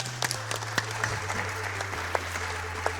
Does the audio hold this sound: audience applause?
yes